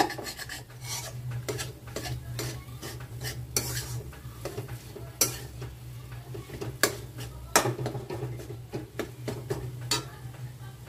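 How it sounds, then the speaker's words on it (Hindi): A spoon scrapes and rasps against a kadhai while a chickpea flour mixture is stirred and roasted, giving repeated close scraping strokes over a low steady hum. "चलाते रहना है ताकि ये चिपके ना कढ़ाई में"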